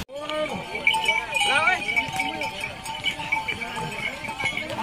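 Horses and mules plod along the steep Kedarnath pilgrimage trekking path, with a steady clip-clop of hooves under continuous crowd chatter and voices throughout.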